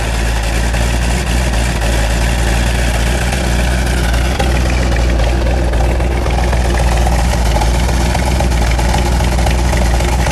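A 1970 Dodge Challenger with a 340 engine idles in park, a loud, steady, close rumble that holds for the whole stretch with no talking.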